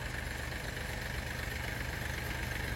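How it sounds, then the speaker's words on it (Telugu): A tractor engine runs at a steady idle-like rumble while pulling wire along a road construction site, continuous low throbbing with a mid-range drone and no breaks. "ఇలాగా ట్రాక్టర్ తో అయితే మన వైర్ ని అయితే పుల్ చేస్తున్నారండి"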